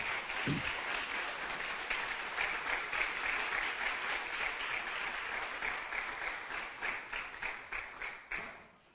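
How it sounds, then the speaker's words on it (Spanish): A church congregation claps loudly for the Lord, a dense continuous round of applause with faint individual hand claps audible through it, sustained for several seconds before dying away. "Denle un aplauso fuerte al Señor"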